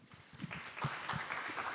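A seated audience at an academic pharmacology symposium gives brief, faint applause, a short patter of clapping hands.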